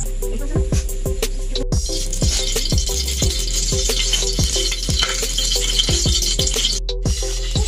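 Oil heats in a cooking pan with a soft continuous sizzle and hiss, punctuated by repeated sharp metallic taps and clinks at an uneven pace, close and fairly loud.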